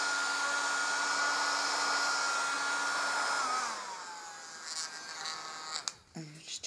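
USB mini vacuum cleaner running on boost power with a steady high whirring drone, close and loud, then winding down in pitch and stopping, followed by a few clicks and handling knocks.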